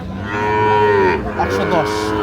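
Sahiwal cattle at a livestock market in Netrokona give a loud, sustained low moo lasting about a second, followed by a second shorter bellow, with the murmur of the crowded market behind.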